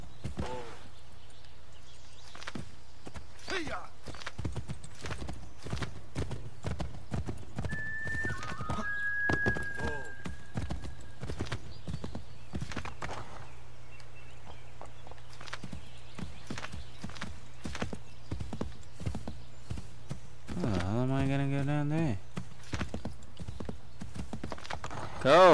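Rapid, steady clip-clop of horse hooves at a gallop in the video game Assassin's Creed 3, continuous and close, with a horse whinnying near the end.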